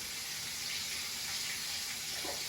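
Cold tap water pours steadily into a cooking pot for boiling potatoes, a constant hissing rush heard close, with no talking.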